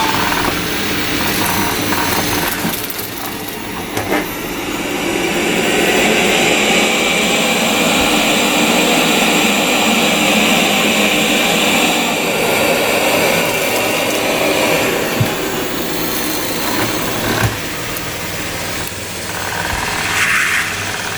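A Roborock S7 Plus robot vacuum cleaner starts a cleaning run, giving off a steady, loud whirring hiss of motor and suction that holds without a break throughout, with no talking.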